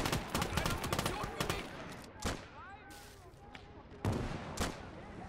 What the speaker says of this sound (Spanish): Vamos a pegar unos cuantos disparos.